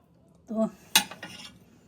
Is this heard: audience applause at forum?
no